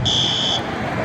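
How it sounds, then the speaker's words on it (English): A school fire alarm sounds during a fire drill as a loud, steady electronic tone. It cuts off briefly and then resumes over a rumbling background. "There's a fire alarm?"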